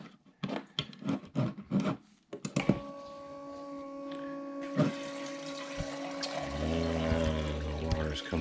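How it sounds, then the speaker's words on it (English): Water flowing steadily from a bilge pump with a speed controller, a continuous gushing stream after a few clicks and knocks of it being switched on, with a faint motor whine rising near the end. "The water's coming out."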